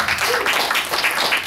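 A small group gives a short round of clapping, fairly close and brisk, with a voice talking faintly underneath.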